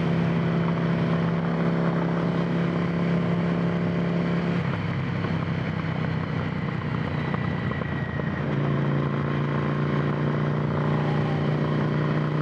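A Ducati Monster 797 motorcycle engine rumbles continuously nearby, a loud, steady drone with slight shifts in pitch as the throttle changes, no voices over it.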